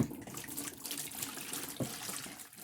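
Clean water splashing and pouring into a gold pan in short irregular gushes, close by, with a brief louder slosh partway through.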